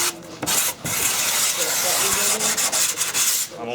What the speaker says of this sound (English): I'm almost sanding dead flat to it.